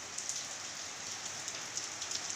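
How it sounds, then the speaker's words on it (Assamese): Steady rain falls after a spell of hot weather, a soft continuous patter on surfaces with occasional louder drips, alone and moderately quiet. "ফাইনেলি বৰষুণ পৰিলে বাৰু"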